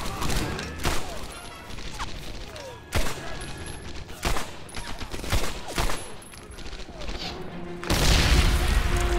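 Sharp M1 rifle shots ring out in the Medal of Honor game, several separate loud cracks spaced irregularly over a rumbling battlefield backdrop, with a burst of broadband noise near the end.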